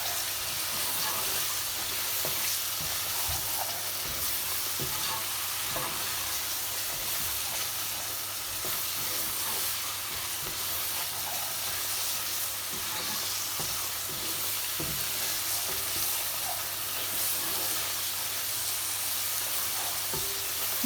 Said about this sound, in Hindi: मसाले डाल के हम ये भून रहे हैं।